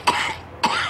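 A person coughs twice, close and sharp, with a brief pause between the two harsh bursts.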